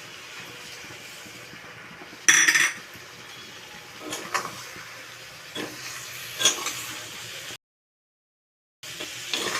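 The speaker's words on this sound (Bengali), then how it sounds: "ভালো করে নেড়ে চেড়ে নেবো" Ground ginger, cumin, mustard and red chilli paste stirred into a cooking pan for bottle gourd with prawns: soft hiss and steam, with intermittent clinks and scrapes of a utensil against the pan, alone and fairly close.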